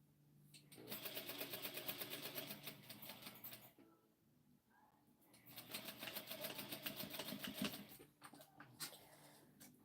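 Home sewing machine stitching in place through fraying fabric, needle down near pins; a steady rapid mechanical chatter runs in two long bursts with a short pause between.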